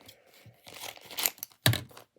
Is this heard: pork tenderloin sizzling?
no